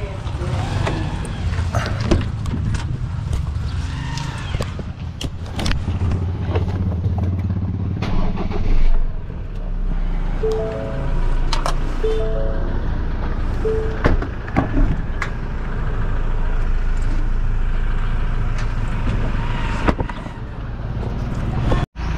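A work vehicle warms up at idle before heading to a construction site in Tarlac, a close, loud low engine rumble running throughout with clattering bumps, while people talk over it.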